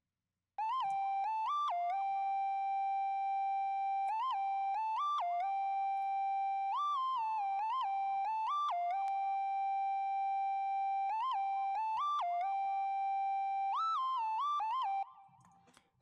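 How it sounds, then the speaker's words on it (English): A bright mono synth lead, the R&B Triangle Lead from Omnisphere, plays a repeating gliding melody of short notes for about fifteen seconds, solo and clean. "it is called the R&B Triangle Lead under Synth Mono in Omnisphere"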